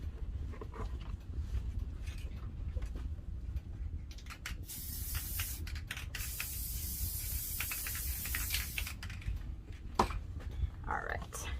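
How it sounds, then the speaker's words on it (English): Spray adhesive hissing from an aerosol can onto a Dollar Tree craft piece, a sustained close hiss lasting several seconds amid light handling clicks and rustles. "I am going to spray adhesive the top"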